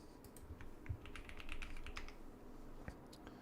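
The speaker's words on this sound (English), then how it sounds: "Keyboard sounds great, thank you." Rapid typing on a computer keyboard, a steady run of sharp key clicks close to the microphone, with a few heavier thocks mixed in and no speech.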